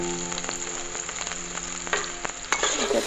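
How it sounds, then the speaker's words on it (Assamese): Chopped onions frying in a pan after potatoes, a dense continuous sizzle with occasional utensil clinks and stirring, loud and close with no voices. "পিঁয়াজখিনি এনেকৈ ৰঙচুৱা হোৱালৈকে ভাজি থাকিম মই গোটেইখিনি।"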